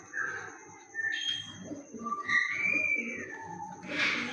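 Round-feathered breeder pigeons coo and call in a few short, close bursts over a quiet background, with a brief chirp-like whistle toward the end.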